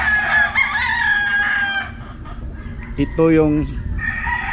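Chickens on a backyard farm, a rooster crowing loudly up close with clucks around it and a second crow part way through, while someone talks over the birds.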